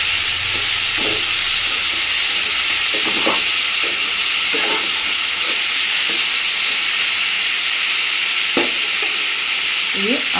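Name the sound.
carrots frying in oil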